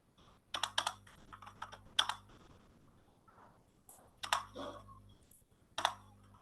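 Close, quiet typing on a computer keyboard comes in short bursts of rapid clicks separated by pauses, with a few sharper key presses standing out.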